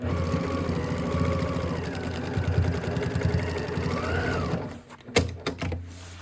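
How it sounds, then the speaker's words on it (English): Sewing machine stitching straight across the fabric of a homemade dopp kit toiletries bag, a steady fast mechanical whir of needle strokes that runs continuously for over four seconds, then stops with a few short clicks and thumps. "Flatten that material out with your hands and come in and sew right across that line."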